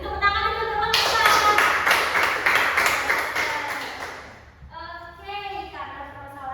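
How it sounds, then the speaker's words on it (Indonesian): A burst of classroom applause from a group of students rises and fades over a few seconds, with a voice speaking before and after the clapping. "Beri tepuk tangan dulu teman-teman"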